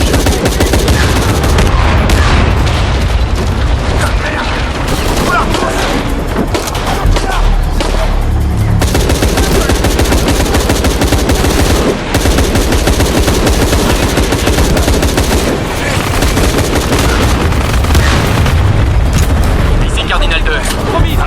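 Dense gunfire and explosions from the video game Shadow of the Tomb Raider, loud continuous bursts and booms filling the scene while game characters talk over the battle.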